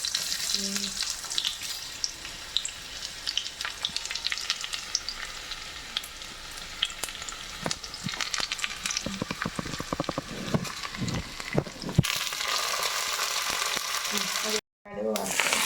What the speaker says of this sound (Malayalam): ഇച്ചിരി കടുക് വറുത്തിടാൻ വേണ്ടി സ്വല്പം എണ്ണ ഒഴിക്കുക.